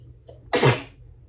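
One loud human sneeze in a home setting, preceded by a faint short inhale and ending in quiet, with no speech over it.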